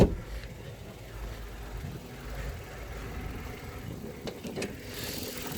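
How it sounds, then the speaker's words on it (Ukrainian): A Mitsubishi Mirage car engine idles steadily with a low, even rumble, continuous and close, with a few faint clicks near the end. "Мотор працює рівно стабільно справно"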